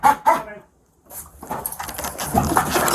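A Lansing police K-9 barks inside a house during a building search: a couple of sharp, close barks, then a pause, followed by jangling and people talking.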